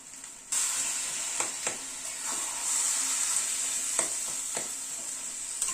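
Eggplant frying with salt, turmeric and spices in a pan, a sudden loud sizzle that starts after a brief quiet moment and holds steady, with occasional spatula scrapes and taps close up, no voices.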